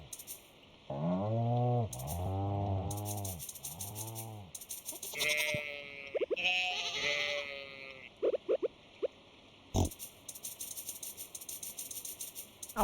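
Sheep bleating in the farming game Stardew Valley, several loud, wavering calls in a row, followed by softer game interface clicks and chimes.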